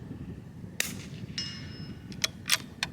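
A rifle fires at a target's head during testing with an Athlon Rangecraft chronograph. Three sharp cracks ring out separately, with a faint metallic ring between them.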